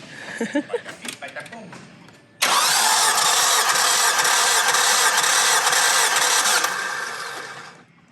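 A Mazda Protege engine with a compression gauge fitted cranks for about four seconds during a cylinder test, a loud, steady rapid churning that follows a few seconds of people talking nearby.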